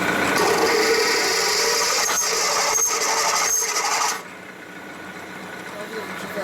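A power drill drilling a hole in a 1972 Harley-Davidson Sportster grinds and rasps steadily for about four seconds, close by, then cuts off, leaving quieter room noise.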